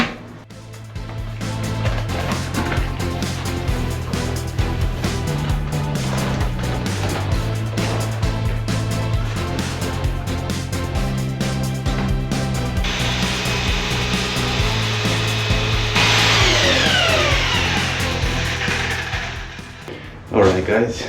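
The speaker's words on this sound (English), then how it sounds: "let's mix some adhesive" A power drill with a paddle mixes tile adhesive in a bucket for bathroom waterproofing, a loud continuous whirring churn that shifts pitch as the load changes and runs for about twenty seconds.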